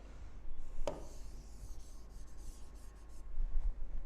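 Someone writes on a board during an electrochemistry lesson, making soft, scratchy rubbing strokes with a sharp tap near the start. The strokes run close and fairly quiet over a low background hum, with no talking.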